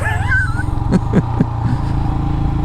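Royal Enfield Himalayan motorcycle fitted with a booster plug, its exhaust giving a deeper, fatter tone: a steady low idle rumble close by, with a few soft mechanical knocks over it.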